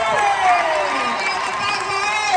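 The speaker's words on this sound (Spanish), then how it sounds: "¡A ver, un aplauso para Ole!" A live podcast audience in Hermosillo cheers and shouts in a steady, dense wash of crowd noise, voices layered over one another without a break.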